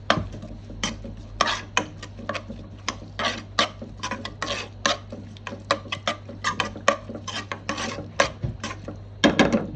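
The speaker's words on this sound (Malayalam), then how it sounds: "എന്നിട്ട് നല്ലോണം മിക്സ് ചെയ്യാം." Prawns are mixed by hand in a bowl with ginger, onion and garlic for a Kerala-style prawn roast: a quick series of soft scrapes, clinks and wet rubs in an uneven rhythm over a low steady hum.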